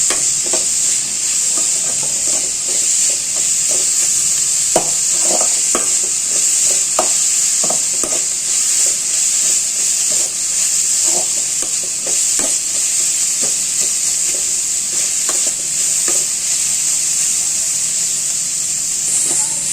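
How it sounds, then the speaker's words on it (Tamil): Vegetables sautéing in a pan for a vegetable pasta, with a loud, continuous hiss of frying and repeated scraping stirs in an irregular rhythm, heard close up. "அதனால் நம்ம காய்கறியை வதக்கிடலாம்"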